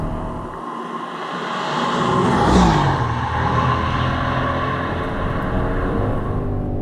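A 2020 Mercedes-AMG GLC63S Coupe engine roars close by, its pitch swooping up and then dropping as it revs hard during an automatic gearbox downshift from high RPM, with a steady mechanical drone continuing afterward.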